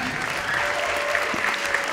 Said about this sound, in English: Keep that applause going for Ben Richardson